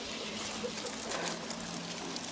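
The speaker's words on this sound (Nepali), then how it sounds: "पानी त ठुलै छ त्यो मुलेर" Water from a mountain spring source flows steadily near a village, a continuous broadband rush that stays even and fairly close throughout, with no voices.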